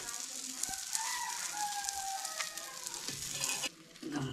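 Bangda mackerel frying in oil over a wood-fired village stove, a loud continuous sizzle close by, with a rooster crowing in the background and faint voices.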